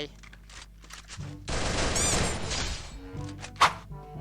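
Gunfire in the mobile battle-royale game Free Fire: a dense, loud burst of rapid shots lasting about a second and a half, followed by a single sharp crack.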